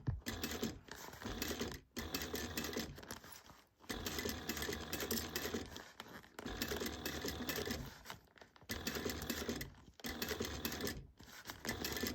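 A sewing machine stitches a crossbody bag in fast, steady bursts of mechanical whirring, broken by short pauses, close and clear with no speech.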